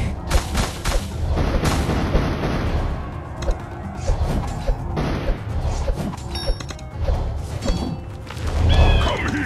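Bombs and explosions in the tower-defense video game Kingdom Rush Vengeance: a dense, continuous barrage of booms, crashes and gunfire-like blasts layered over game effects, loud throughout with a heavier burst near the end.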